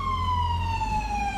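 Emergency vehicle siren at a police and fire truck response holds a slowly falling wail, loud and steady over low traffic rumble.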